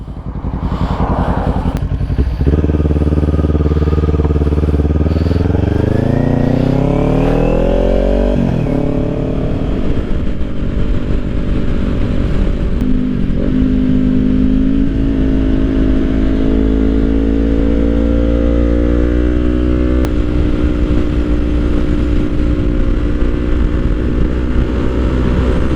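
A Kawasaki Ninja 400 motorcycle on a road ride: the engine revs up loudly through the gears in the first seconds, then settles into a steady, close, droning cruise with constant wind rush and no talking.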